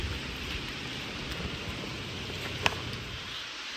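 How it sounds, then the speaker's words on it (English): Rain falls outside a camper at a boondocking spot in British Columbia, a steady close hiss of drops with a single sharp drip standing out near the end, and no talk. "Had a bunch of rain yesterday and this morning."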